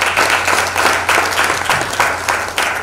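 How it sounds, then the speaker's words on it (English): An audience at the opening of a university talk series applauds its sponsors, with steady, close, full clapping that rises and falls in gentle waves and has no voices over it. "Let's give them a round of applause."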